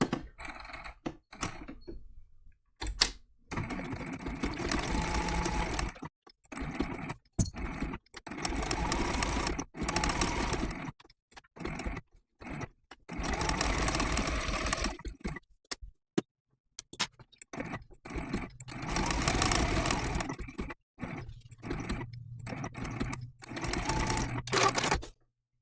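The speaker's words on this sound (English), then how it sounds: "my blanket stitch that I'm going to use to sew down the patch" A sewing machine running a blanket stitch at 2.8 width and 2.0 length to sew down a raw-edge appliqué patch on a sunbonnet quilt block, loud close bursts of rapid stitching broken by short pauses.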